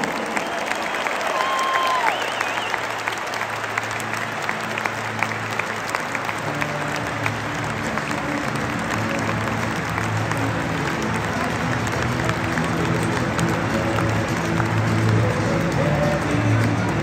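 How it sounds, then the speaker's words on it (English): A stadium crowd at a football match claps continuously in a dense, loud wave of applause. Scattered cheers and voices rise above the clapping throughout. "can we please have a special round of applause for our friends from Bilbao"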